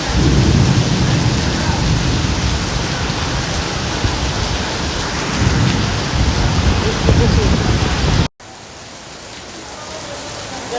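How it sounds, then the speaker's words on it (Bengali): A loud, unbroken downpour with thunder rumbling underneath during a heavy Malaysian rainstorm, holding steady for several seconds before cutting abruptly to a quieter, thinner rain sound. "এত বৃষ্টি দেখলাম"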